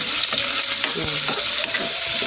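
Chorizo and mixed vegetables stir-fry in a hot pan, a loud, dense sizzle broken by quick scraping stirs of a utensil, close and without speech.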